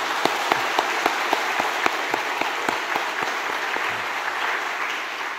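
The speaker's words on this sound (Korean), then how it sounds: "박수 한번 쳐주세요" A church congregation claps for students and youth during a youth dedication service, a steady, full applause with individual sharp claps standing out throughout.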